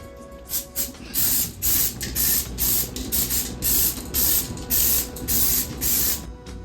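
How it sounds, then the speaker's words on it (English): Repeated short bursts of aerosol cooking spray into a muffin tin, about a dozen quick hissing sprays in an uneven rhythm, close and fairly loud. "I'm just going to spray it down with some cooking spray"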